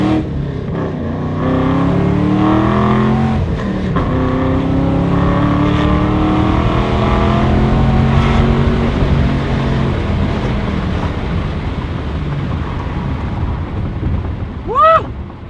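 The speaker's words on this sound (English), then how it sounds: "First time driving a Camaro." A 2013 Chevrolet Camaro SS with a manual clutch revs loud and close, its engine note climbing through the gears in repeated rising sweeps as it accelerates, then easing into a steady drone.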